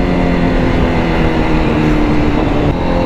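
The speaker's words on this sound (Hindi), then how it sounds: "अलग लेवल का साउंड है इसका एग्जॉस्ट का" A Honda CBR1000RR-R motorcycle's exhaust roars loud and close under hard acceleration, a dense, continuous engine drone with no voices.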